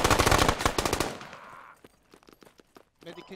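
Sustained machine gun fire in the Squad video game, a loud, fast burst for about a second that fades, followed by scattered quieter distant shots and a final short burst.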